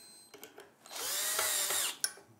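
A power drill whirs for about a second while tightening part of a thread stand for a straight stitch sewing machine, with small clicks of handling before and a sharp knock as it stops, close up.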